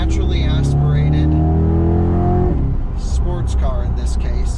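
Naturally aspirated engine of a C8 Corvette Z51 convertible revving hard on a canyon drive, the note climbing steadily for a couple of seconds before cutting off, with someone talking over it.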